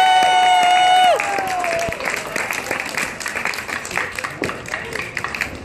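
Crowd cheering and clapping for Pucky, the team mascot, at a Bristol Blues baseball game at Muzzy Field, a loud sustained roar with scattered claps after a short tone fades out.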